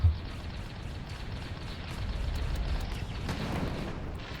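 Explosive salute from a Tesla weapon in the tank game Tanki Online, a burst of booming blasts and crackle that swells midway over steady game background noise, fairly loud and close.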